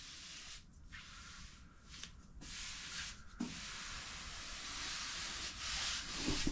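Sanding MGB car body metal with 80 grit: a coarse, continuous scraping rasp with rhythmic strokes and brief pauses, close to the microphone.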